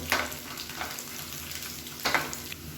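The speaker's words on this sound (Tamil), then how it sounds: "இந்த வெங்காயம் மட்டும் நல்லா வதக்கணும், அப்போ தான் நல்லா வாசனையாக இருக்கும்" Onions and grated coconut sauté in a pan for sambar with a soft, steady sizzle, broken by two brief scraping stirs at the start and near the end.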